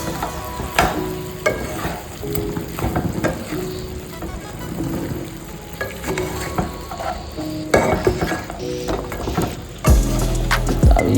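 A ladle stirs chicken curry in a pan, giving repeated scraping clicks and knocks over a soft sizzle, irregular in rhythm and close by, with a louder clatter near the end and no speech.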